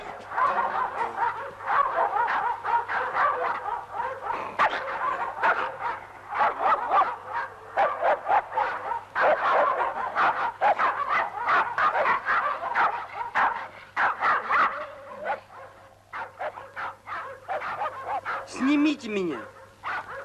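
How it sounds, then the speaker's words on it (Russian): A dog barks in repeated short yips and woofs, close and fairly loud, with people talking over and between the barks in a 1979 Soviet film scene. "Вот это уж, наверное, ваша собака."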